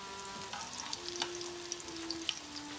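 Potato latkes fry in a pan, sliced thin for extra crispiness, giving a steady close sizzle with small pops and crackles throughout and no talking.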